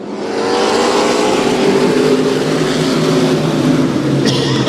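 Race cars accelerate hard at Houston Motorsports Park just after a checkered flag, a loud sustained roar of several engines building up and holding steady, with a brief sharp transient near the end.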